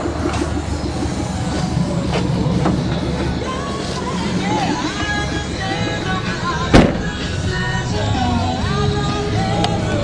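A Subaru Legacy 2.5 liter boxer engine is revved up in a rural setting, giving a dense, rumbling drone with rough pulsing texture, broken by a single sharp knock or bang partway through.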